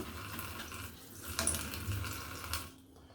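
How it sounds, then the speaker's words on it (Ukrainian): Tap water runs steadily into a sink, splashing and shifting as freshly dug-up metal-detecting finds are rinsed and cooled under the stream, then cuts off near the end. "Висипав їх і далі промиваю водою, їх охолоджую."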